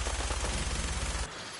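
Rapid automatic gunfire in the video game Fallout 4, a dense close burst of shots that stops abruptly, leaving a quieter tail.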